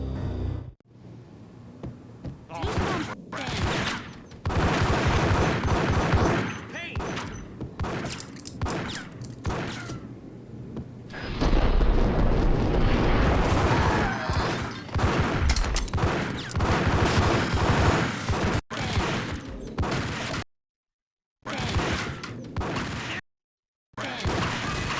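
Gunfire in the Max Payne video game as a cop confronts the hustler Rico Muerte: loud, dense bursts of shots and fusillades, near and harsh, cut by sudden brief silences.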